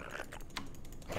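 Typing on a computer keyboard at a standing desk during a StarCraft session: quick, quiet clusters of key clicks over about a second.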